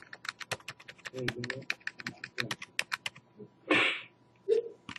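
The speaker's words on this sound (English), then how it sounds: "You use the arrow keys." Computer keyboard arrow keys are tapped in a quick, light, irregular series close by, with a person talking briefly over the tapping.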